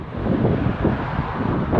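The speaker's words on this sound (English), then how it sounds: "excuse me because it's windy over here" Gusty wind buffets the microphone in loud, rumbling bursts, with no other sounds coming through.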